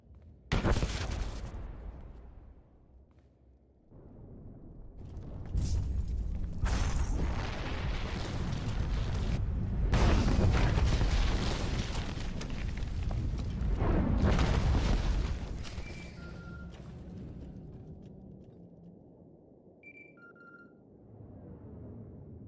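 A massive explosion in the video game Star Wars: The Old Republic brings a facility down into rubble, with long loud rumbling blasts and crashing debris in repeated surges before fading to a low hum and a few electronic chirps.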